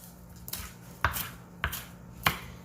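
A knife chops culantro on a cutting board for Spanish sofrito, sounding as about four or five distinct, close thuds at an uneven pace.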